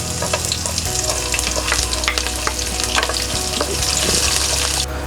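Garlic and crushed green chillies frying in hot oil in a pan, a loud, continuous close sizzle with scattered pops and crackles throughout, no talk.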